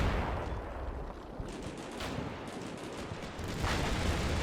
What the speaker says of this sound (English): There is an M240 shooting somebody. I can hear it.